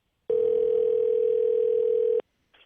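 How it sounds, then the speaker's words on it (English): A steady telephone dial tone hums for about two seconds while a phone call is placed, loud and close, then cuts off abruptly, followed by a brief faint sound. "I believe we'll be calling Luke"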